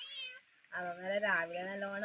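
A cat meows twice, the first call short and the second longer and drawn out, close by with no talking.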